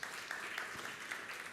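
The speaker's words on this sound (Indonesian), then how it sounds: "Kita beri tepuk tangan yang meriah untuk kemuliaan." A church congregation gives a brief burst of steady applause, heard faintly and at a distance with no voices over it.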